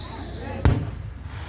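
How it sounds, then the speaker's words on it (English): A single firework bursts in an outdoor family display, one sharp booming crack that rings out briefly and then fades into faint background noise. "I think there are some fireworks."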